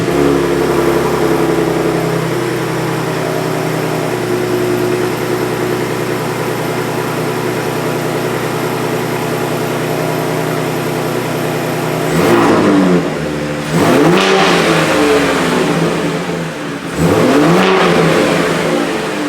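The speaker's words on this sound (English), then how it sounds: "We're going to fire this thing up, give it a couple of revs" A stock 2023 Ford Raptor engine holds a loud, steady idle, then revs sharply twice in quick swells that fall back each time, recorded up close with no talking.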